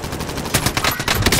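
Rapid automatic gunfire from a squad-based shooter video game, a dense, loud stream of overlapping bursts with no talking.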